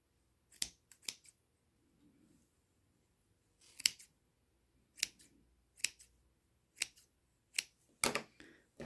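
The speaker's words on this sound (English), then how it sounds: "and then I snip them." Scissors snip yarn ends on a small crocheted dog toy, giving about nine sharp, close, crisp cuts in uneven bursts with brief quiet gaps between them.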